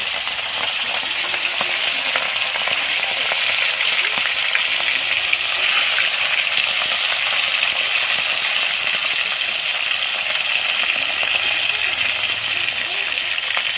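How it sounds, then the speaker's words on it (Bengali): Salt-rubbed fish sizzling in hot oil, a steady, bright, crackling fry that stays even and loud throughout, close by. "মাছগুলো এই যে ভাজবো, নুন মাখিয়ে ধুয়ে রেখে দিয়েছি, নুন মাখিয়ে রেখে দিয়েছি। আর এই যে তেল গরম হয়ে গেছে, আর এই যে তেলের মধ্যে দিয়ে দিলাম"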